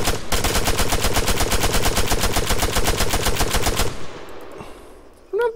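Automatic rifle in the Arma 3 video game firing one long, rapid and evenly spaced burst at medium range, loud and close, ending in a fading echo and a faint mechanical click.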